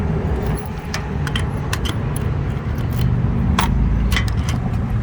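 Keys jangle and clink in short metallic bursts as a small lock is fitted, against a steady low rumble of traffic or an idling engine nearby.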